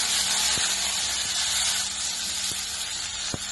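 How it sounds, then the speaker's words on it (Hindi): Green chillies fry in hot oil with cumin in a home kitchen pan, giving a steady, loud broadband sizzle and hiss throughout, with a few brief clicks and pops cutting through. "उसके बाद में मिर्चा फ्राई कर लिया तेल में"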